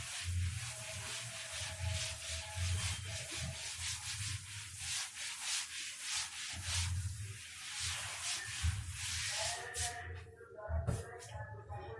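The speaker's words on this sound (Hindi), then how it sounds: "चलो भाई इसको रब कर देता हूं" A board being rubbed clean with a duster in a classroom, giving a steady, close, scratchy rubbing in repeated back-and-forth strokes, ending with a few faint knocks.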